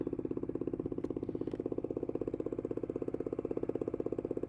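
A motorcycle engine runs steadily at a low idle, with a fast, even pulsing thump that stays close and loud throughout and never rises in pitch.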